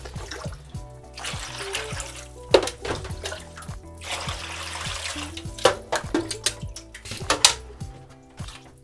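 Water trickles and splashes over a black-and-white photographic print washing in a darkroom tray, with intermittent louder splashes and light clinks of the tray over a quiet steady flow.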